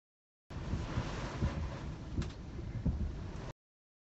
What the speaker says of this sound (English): tremendous roar with lightning in this hurricane is just absolutely wicked.